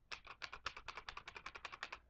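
Rapid typing on a computer keyboard, a quick run of crisp key clicks in a close, steady patter with no talk.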